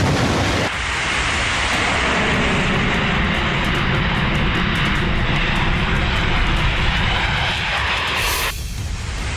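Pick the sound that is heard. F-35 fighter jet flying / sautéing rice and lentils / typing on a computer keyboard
F-35 fighter jet flying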